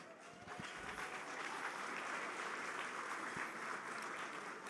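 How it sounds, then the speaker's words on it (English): Applause from an audience at a journalism hall of fame induction ceremony marking an anniversary, a steady wash of clapping that is fairly faint and distant, with no speech over it. "Ladies and gentlemen, please a round of applause for NABJ's 50th anniversary."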